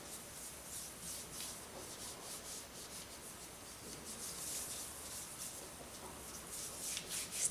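Soft, continuous rubbing of a hand over paper pressed onto a henna floral stamp, a faint, steady brushing texture with slight swells, close and quiet with no talk.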